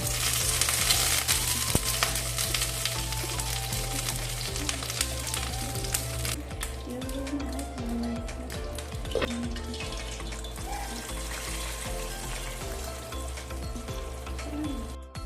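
Mustard seeds and curry leaves sizzle in coconut oil in a pan with a continuous crackling hiss, alongside a low hum and scattered small kitchen clatter.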